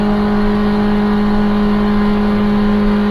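A Formula 1 car engine in a racing video game, a loud sustained high-revving whine holding steady and close throughout, with no voices.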